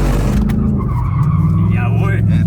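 A Ford Mustang Dark Horse drifts with its handbrake, engine droning loud and close from inside the car while tires skid and squeal in a rising screech toward the end.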